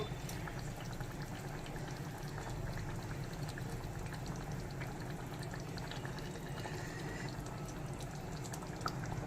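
Fried fish going into a simmering fish curry, with a steady, fairly loud bubbling boil that carries on unbroken and no talking.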